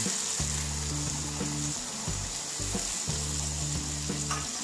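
Soya chunks and vegetables for a soya chilli sizzle steadily in a pan as water goes in, a continuous close hiss and crackle with a low steady hum underneath.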